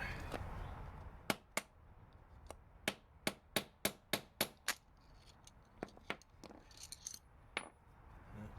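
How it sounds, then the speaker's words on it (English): A screwdriver is hammered into a wheel locking lug nut: sharp metallic strikes ring out about fifteen times, some in quick runs, others spaced apart, close and clear. "I'm gonna see if I can pound this guy out"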